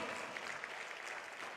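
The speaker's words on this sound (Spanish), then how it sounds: "Dele ese aplauso al Señor." A church congregation claps together during a sermon, a steady, fairly faint wash of applause with a voice faintly present beneath it.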